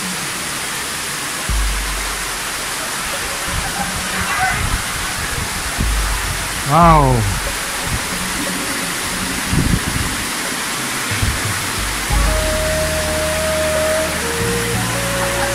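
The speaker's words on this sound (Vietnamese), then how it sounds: "Phan Thiết mưa lớn lắm, quá trời luôn, mưa gió." Heavy rain and wind in Phan Thiết make a constant loud hiss and wash throughout. A few short voices, a brief exclamation and a passing vehicle tone sit on top of the downpour.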